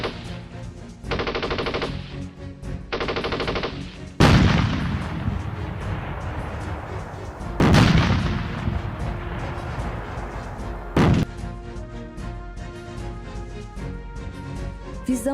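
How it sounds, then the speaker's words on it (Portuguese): Heavy gunfire in a patrol firefight against defenders of a position: repeated machine-gun bursts alternate with loud booming artillery impacts, several big blasts and rattling volleys over a sustained battle din, no voices. "houve intensa troca de tiros entre a patrulha e os defensores da posição, sempre contando com o apoio das respectivas artilharias"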